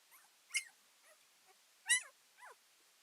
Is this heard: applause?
no